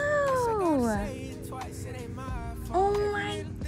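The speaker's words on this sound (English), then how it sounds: "That's a wee kitty." A small cat meows several times in close, rising-and-falling cries, with a quieter meow near the end, recorded on a Kauai beach vacation.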